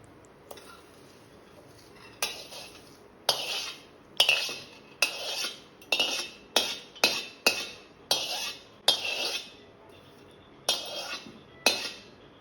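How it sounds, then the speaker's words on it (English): A metal spoon mixes tempering into rice in a dish with sharp scraping clinks against the vessel, about a dozen distinct strokes in an uneven rhythm, close and clear with no speech. "Now add tempering to this rice."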